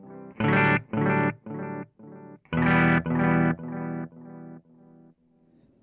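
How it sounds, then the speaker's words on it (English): A TC Electronic Flashback delay pedal sends a short guitar phrase into repeats that fade step by step, each echo quieter and duller than the last, until they trail off to near silence. "you can hear they kind of roll off the high end as the repeats degrade"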